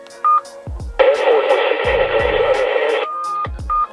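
A Midland MXT275 two-way radio sounds a loud, steady weather channel alert tone for about two seconds, framed by short button beeps and clicks before and after.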